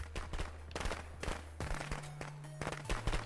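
Rapid bursts of sharp popping explosions crackle in quick succession over a low steady hum, firecrackers going off in clusters in the video game Friday the 13th.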